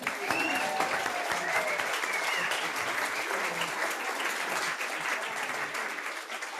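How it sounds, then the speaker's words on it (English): An audience applauds readers at a Harvest of Voices reading event, a dense steady wash of clapping that holds at even loudness for the whole clip, with faint voices mixed in. "Let's have a round of applause for our readers."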